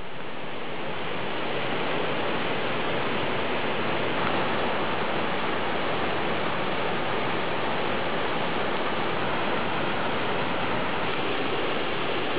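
Parit Falls, a small jungle waterfall, pours into the pool below with a steady, dense rush of splashing water that stays constant and fairly loud throughout, with no voices.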